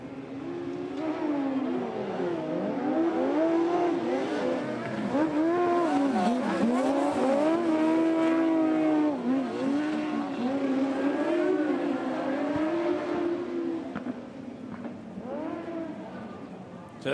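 Speedway motorcycles race around a dirt track, a loud continuous engine roar with rising and falling revs as the bikes pass through the laps, a commentator talking throughout.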